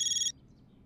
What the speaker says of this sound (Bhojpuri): बेटा तुम्हार फोन बा